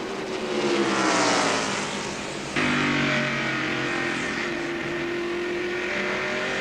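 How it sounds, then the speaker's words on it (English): NASCAR stock cars race in the 1995 Tyson Holly Farms 400. Loud engines roar past close by, their pitch dropping abruptly midway as one car goes by, then a steady engine drone carries on. "And here are Darrell Waltrip and Rusty Wallace racing together once again for 6th spot."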